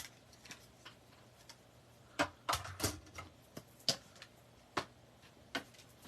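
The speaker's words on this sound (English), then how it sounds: "And I'm going to put this in through my mini cut and emboss." A Stampin' Up mini cut and emboss machine cranking paper through: quiet, irregular clicks and ticks, a few sharper bursts clustered together, over a faint background hum.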